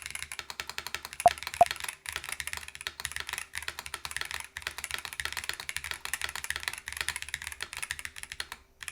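Steady typing on a Razer BlackWidow V4 Pro 75% mechanical keyboard fitted with PBT keycaps, quick continuous key clacks at a moderate, even level, with a couple of sharper louder clicks early on and no talking.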